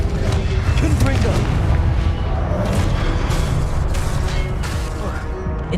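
A Confringo spell cast in the Hogwarts Legacy video game bursts with loud explosive booms and crackling blasts over dense game action, one after another without pause.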